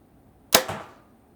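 A single arrow leaves a compound bow during a bow buying test, a sharp loud release crack followed by a short decaying buzz and hum of the limbs, alone with no talk.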